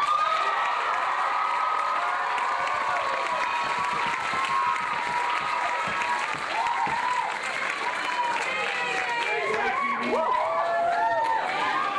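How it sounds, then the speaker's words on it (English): Audience applause and cheering for performer Eugene Wolfin at a comedy show, sustained dense clapping with whoops and shouts, a voice talking briefly over the crowd. "please, a warm round of applause for Mr."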